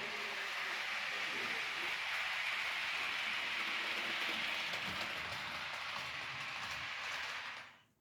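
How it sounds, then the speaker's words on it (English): A steady, loud rushing rumble of a train passing close by in Ukraine, continuous for several seconds before cutting off abruptly. "that could be the very train which takes me to"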